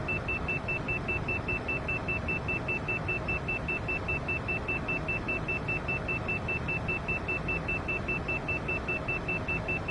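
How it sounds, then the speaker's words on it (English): A steady, regularly pulsing cockpit warning beep in Microsoft Flight Simulator 2024 repeats throughout a climb, sitting above a constant loud rumble of aircraft engine and wind noise. "I know that beeping's gonna be annoying"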